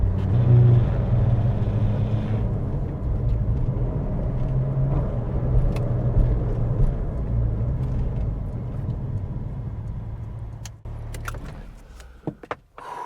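A Porsche 997 GT2 RS rolls over a cattle grid on an open country road, its loud engine droning steadily from start to finish, with a brief run of sharp clatters and thumps near the very end.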